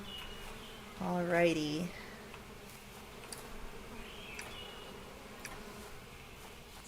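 Bees buzzing around wild hives in the video game APICO, a short close drone with a rising pitch followed by fainter intermittent buzzing; someone speaks briefly.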